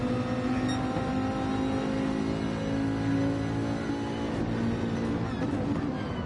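Racing car engines from Gran Turismo 7, including a Mercedes, at Circuit de Sainte Croix make a steady, loud, layered whine that drones continuously with shifting harmonic tones.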